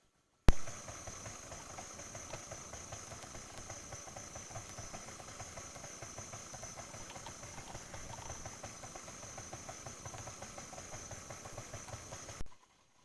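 An electric stand mixer runs on low speed, working flour into the liquid for homemade bread dough, giving a steady motor hum with a high whine and a rapid rhythmic knocking of the dough hook that starts and stops abruptly.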